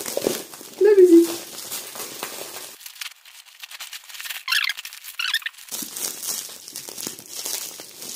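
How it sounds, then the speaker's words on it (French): A diamond painting kit package being unwrapped by hand, with close crinkling and rustling of plastic and bubble wrap in uneven bursts, a brief squeak near the start, and a quieter stretch in the middle. "Alors, il y a du papier bulle aussi à l'intérieur"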